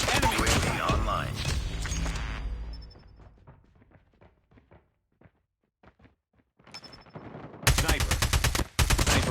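Call of Duty gunfire: a loud burst of automatic fire, a quieter stretch of scattered single shots and thuds, then heavy bursts return near the end, close and intense.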